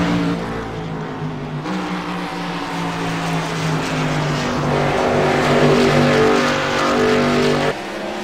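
Race cars run on a track, their engines roaring loudly and continuously, with the pitch rising and shifting as the cars pass close by.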